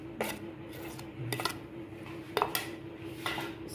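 Salt, red chili powder, turmeric and dried fenugreek being mixed for chicken bread patties, with soft spoon clinks and scrapes against a bowl every second or so, quiet and close.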